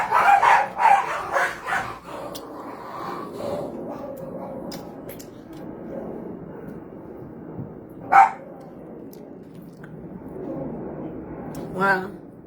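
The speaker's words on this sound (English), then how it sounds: "My dog came out my door, I guess." A dog barks a few times close by, with a cluster of barks at the start and single barks later, over steady background chatter and street noise in New York.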